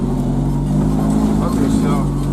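A car driving alongside on a rough track toward a hayfield, its engine a steady low droning hum heard close and continuous under someone talking.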